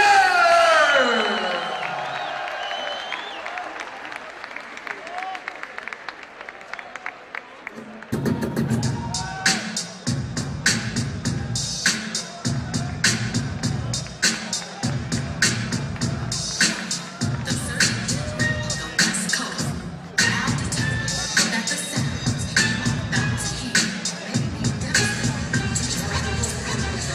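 Crowd at a boxing event cheering, whooping and applauding as a fighter makes his ring entrance, a loud, dense roar with rhythmic bursts over booming arena music after a quieter introduction.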